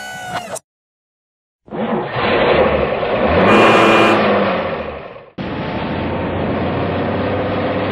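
Cartoon garbage truck with a rear body and hydraulic grabber, its engine rumbling and revving loudly for several seconds after a brief jingle and a pause, then cutting off and returning as a steady drone.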